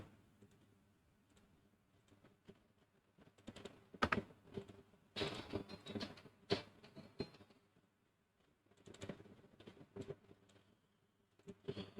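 Typing code on a computer keyboard, with quiet, irregular clusters of key clicks and taps, some louder strikes standing out, all close and with no talking.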